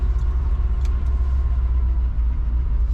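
A 1960 Ford F-100 pickup truck cruises down the road, its engine giving a loud, steady low rumble with constant road and wind noise heard from inside the cab, no voices present.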